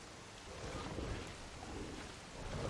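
Rain pours in a continuous dense wash in The Isle video game, with a low rumble of thunder rolling underneath at a steady, fairly soft level.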